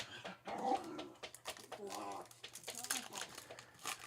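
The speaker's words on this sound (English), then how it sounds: "Dogs are getting restless already." Restless dogs whimper and stir indoors during a card pack opening, short whiny yelps scattered under steady conversation.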